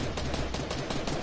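Rapid gunfire in a Fortnite match, a dense run of sharp cracks across the whole moment with no clear single sniper report, loud and steady over game noise.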